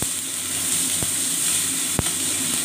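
Chopped tomato sizzles steadily in hot mustard oil in a pan, a close, constant frying hiss with a few soft clicks from the pan and no voices.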